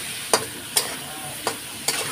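Potatoes with cumin, chili and turmeric powders, salt, and ginger and chili paste frying in oil, stirred in four distinct scraping strokes over a constant hiss of sizzling, close up, with no voices.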